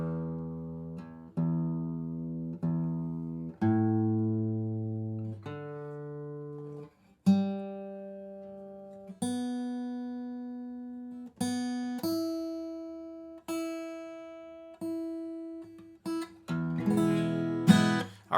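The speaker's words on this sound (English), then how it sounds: "So I'll use the tuner to get a little bit more precisely in tune right now." A guitar tuned string by string against an electronic tuner: a series of single plucked notes, each ringing and decaying before the next, pitches shifting slightly as strings are adjusted, with a strummed chord at the end; no talking.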